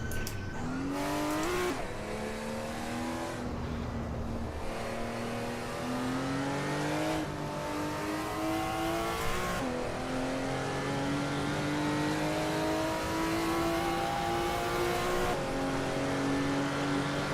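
A race car engine in the video game Assetto Corsa Evo drones and revs steadily throughout, pitch climbing and dropping with repeated gear shifts, loud and continuous with no talking.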